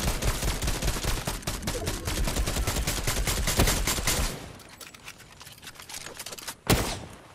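Gunfire in the Fortnite video game: rapid bursts of shots, loud and dense for about four seconds, then quieter scattered noise and one final sharp shot, with no talk.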